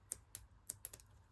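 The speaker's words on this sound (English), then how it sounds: "We can literally just go in with a sharp pair of scissors." Sharp scissors snip apart a PaperArtsy rubber stamp set, giving a few quiet, crisp clicks spaced irregularly with near silence between them.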